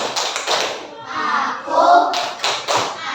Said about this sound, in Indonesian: mari kita sama-sama tepuk. Ya, siapkan ya. Tepuk anak Islam.